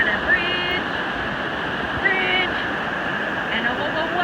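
Steady rushing water of a waterfall near a bridge in Torres del Paine fills the scene, with brief faint tonal sounds over the continuous roar.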